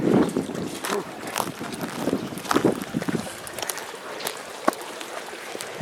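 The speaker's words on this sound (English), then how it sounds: "yeah, it's the wind" Gusty wind buffets the microphone outdoors beside a rural fish pond, coming in uneven rushes and low rumbles, with people talking faintly in the background.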